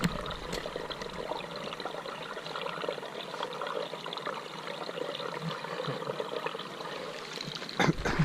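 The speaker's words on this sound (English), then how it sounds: "That, my friends, is a gurgling stream." Outdoors on a trail, a gurgling stream runs steadily, rushing and trickling water close by and fairly loud throughout, with no talk over it.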